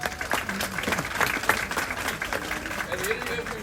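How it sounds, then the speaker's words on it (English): Outdoor crowd applauding a young lady after an alligator-catching demonstration, scattered clapping at a moderate distance with voices talking over it throughout. "Everybody give this young lady a round of applause."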